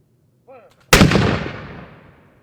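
A ceremonial musket volley fires at a wreath-laying ceremony: a brief spoken command, then a single loud, sharp blast that rings out and decays over more than a second.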